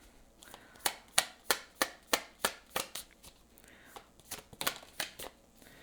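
Tarot cards shuffled in a steady run of about fifteen crisp riffling bursts, close and fairly loud, with a brief pause before a final cluster.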